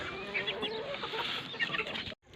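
Rooster and hens clucking together in a backyard coop with a brooding hen on eggs, steady close clucks and calls throughout, ending abruptly in a brief near-silence.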